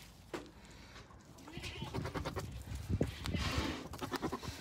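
Cameroon sheep in a wildlife park enclosure bleating outdoors, with repeated nasal bleats and some panting-like breaths over a busy background, alongside faint human voices.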